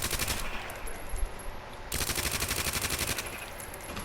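Submachine gun fire in Resident Evil 2 Remake, rapid sustained automatic bursts rattling loud and close, one brief pause near the middle before the stream of shots resumes.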